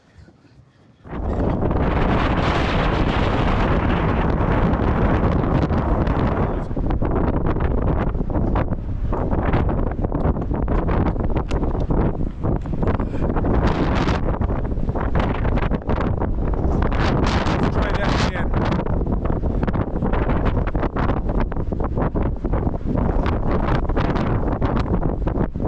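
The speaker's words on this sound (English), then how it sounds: "it's kind of hard to film wind, but if you lean into it enough, you might be able to." Strong wind roars continuously across the microphone on a boat, loud and buffeting for the whole stretch after a brief quiet start, with no voices.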